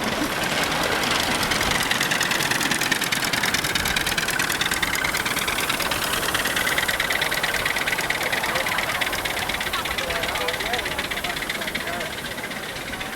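Three stationary engines run together at a vintage engine rally, a steady dense mechanical clatter with hissing, continuous and fairly loud throughout with no pause.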